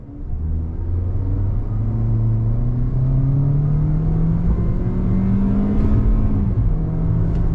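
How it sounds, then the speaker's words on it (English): A 2022 Toyota Corolla Cross XLE AWD with a 169-horsepower engine and CVT accelerates at full throttle, a loud close droning engine note rising steadily in pitch and then holding, continuous with no talk. "I obviously need to showcase the on-throttle acceleration, 169 horsepower in this vehicle"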